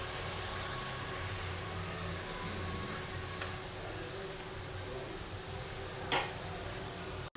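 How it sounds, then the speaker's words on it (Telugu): Chopped tomato fries in a pan with a low steady sizzle under occasional stirring scrapes, fairly quiet and close, one brief sharper clatter near the end. "టమాటో అంతా కూడా బాగా కలిసేటట్టు మిక్స్ చేసుకోవాలండి"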